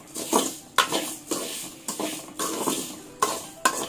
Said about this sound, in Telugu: మనం మళ్ళీ కొద్దిగా నెయ్యిలో వేయించుకుంటాము